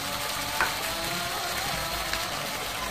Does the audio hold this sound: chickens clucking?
no